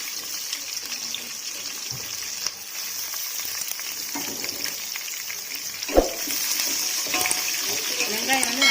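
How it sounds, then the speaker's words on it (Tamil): Onions sautéing in a pan on a stove for seeraga samba chicken dum biryani: a steady, close sizzle with occasional stirring scrapes. "வெங்காயம் வந்து நல்லா பொன்னிறமாக வதங்கிடணும்"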